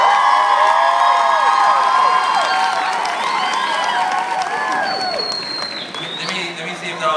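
An audience, many of them children, clapping, shouting and whooping to call dancers out onto a stage, a loud sustained roar with high excited voices sweeping up and down across the crowd.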